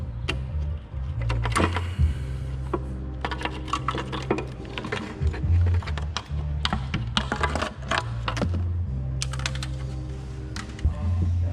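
Lifting the valve cover off a 1993–95 BMW 525i/325i/M3 engine gives a close run of sharp metallic clicks, taps and clunks over a steady low hum.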